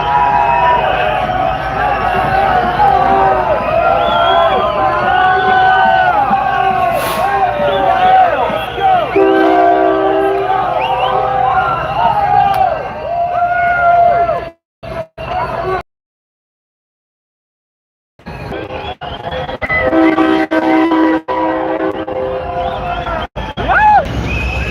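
Train horn honking in support of a rideshare driver strike in Los Angeles, sounding repeatedly over a noisy crowd with people talking and chanting throughout, cut by a brief drop to silence midway.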